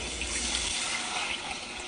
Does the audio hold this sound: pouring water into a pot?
yes